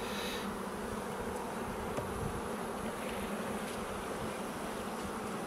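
Honeybees drone steadily around an opened hive during a spring inspection, a dense, continuous buzz close by with no talking.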